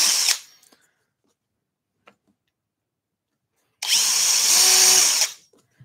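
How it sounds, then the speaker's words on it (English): A power drill boring through a thin glue layer on a wooden scroll-saw lampshade piece: a short burst at the start, a faint tick, then a loud, steady whirring drill run of about a second and a half. "So goggles on when I'm drilling, and we just need to go through this little layer."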